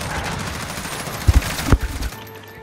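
Call of Duty Search and Destroy gunfire: a rapid volley with several sharp, loud, close bursts clustered near the middle, then the shots trail off into quiet.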